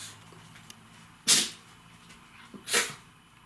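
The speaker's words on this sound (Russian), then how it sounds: "Ну кто чихает и мешает, а?" Two short, breathy sneezes about a second and a half apart in a quiet indoor room, close and fairly loud over faint background hiss, with no talk.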